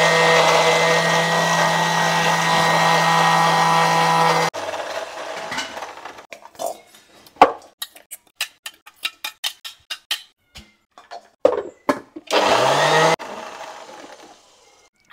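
A kitchen mixer grinder blends green chillies, coriander and mint with a loud, steady motor whir for several seconds. Scattered clicks and clatter follow, then a second short burst of grinding.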